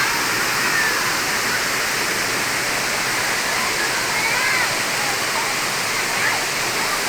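Huai Mae Khamin waterfall in Kanchanaburi, Thailand, pours in a loud, constant rushing roar with faint splashing detail and no break.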